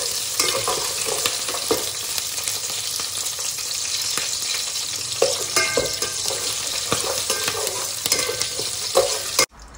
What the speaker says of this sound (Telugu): అది మీద పడుతుంది కాబట్టి కొంచెం దూరం పోవాలి పచ్చిమిర్చి వేసినప్పుడు